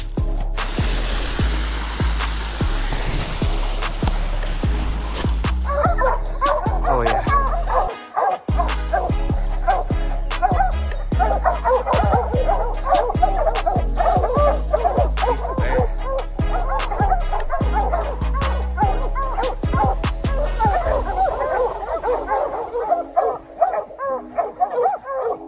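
A pack of hunting hounds barks and bays continuously during a bear chase in the woods, loud and close, with rapid overlapping barks, yips and whines throughout.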